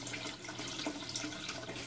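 Water flowing through a siphon in a home aquarium aquaponics setup, a continuous close trickling rush like a running faucet, steady and unbroken for nearly two seconds with no voices.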